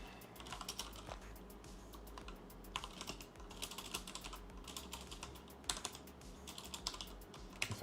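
Rapid, uneven typing on a computer keyboard while entering code for a programming puzzle, with close, crisp key clicks and occasional louder thumps running steadily throughout, no talking.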